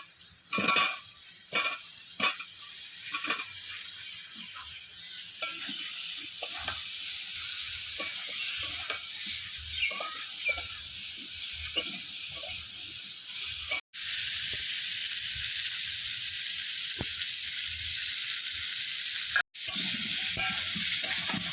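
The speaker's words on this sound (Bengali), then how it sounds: "এবার কলাগুলো আলুর ভিতরে দিয়ে ভেজে নেব।" Close, loud sizzling of potato and banana pieces frying in a pan, broken by repeated scraping and clicking of stirring, with a continuous hiss later and no voices.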